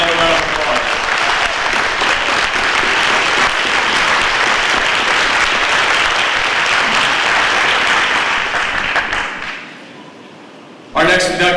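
Loud audience applause at a Hall of Fame induction ceremony, honoring an inductee named Jeff; dense, continuous clapping with some crowd noise runs for about nine seconds, then fades to near silence before a brief burst returns at the end.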